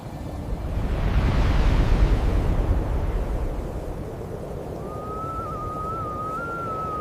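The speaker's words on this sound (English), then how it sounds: "Excelsior pours into the firehole, white columns rise from vents, and acidic mud swells and bursts beneath drifting fog" Steam venting and acidic mud bubbling and bursting at a Yellowstone hot spring: a broad rushing hiss that swells and then eases to a steady roar, with a faint thin tone drifting in near the end.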